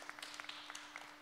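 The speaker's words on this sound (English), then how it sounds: "And now you can all applaud. This is a good time. You can applaud now and at the end." An audience at a Chicago school board candidate forum claps for about a second. The scattered handclaps form a steady patter and come across as moderate and slightly distant, with no talking.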